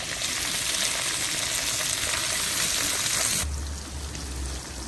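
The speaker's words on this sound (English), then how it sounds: "I'm gonna fry up the tomato and the carrots." Tomato and carrots fry in a pan with a steady, close hiss of sizzling that drops in intensity after a few seconds, leaving a quieter crackle over a low hum.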